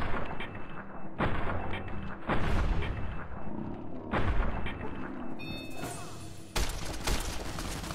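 Service rifle gunfire in Fallout, four loud, sharp shots with booming tails, spaced unevenly over several seconds, with no voices.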